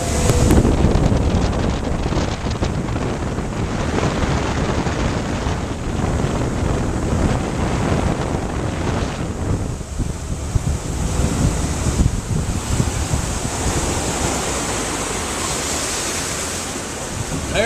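A Sea Ray 240 Sundancer runs on open water, its engine buried under a constant loud rush of waves and wind buffeting the microphone throughout.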